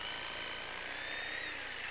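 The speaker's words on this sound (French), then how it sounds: "C'est une scie alternative." A reciprocating saw cuts through a tree branch outdoors, giving a steady, loud, continuous high-pitched whine and buzz with no pauses across the whole stretch.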